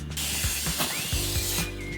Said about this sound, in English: Spray your pans with baking spray with flour